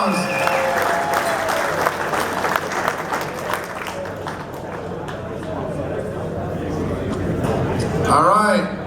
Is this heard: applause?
yes